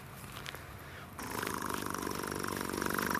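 A man imitates a cheetah's purr in a cheetah enclosure in South Africa, a steady low rumbling drone that grows louder and fuller partway through and continues without a break.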